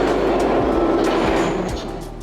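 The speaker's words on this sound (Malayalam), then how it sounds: "ട്രെയിൻ വരുന്നുണ്ട്" Metro train arriving at an underground station in Tashkent, a loud steady rumble with rhythmic wheel clacks that eases slightly toward the end.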